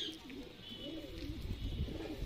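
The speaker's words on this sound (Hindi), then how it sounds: "तो दोस्तों ये काफ़ी पुराना कबूतर है इनका" An old Sialkoti pigeon coos in a low, rolling, continuous warble, close and steady, with no voices over it.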